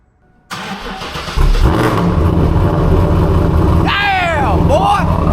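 Fully built big-cammed Pontiac WS6 V8 cranks and fires on a cold start, catching into a loud, rough, choppy idle with sharp revs, close up, with a voice in the background.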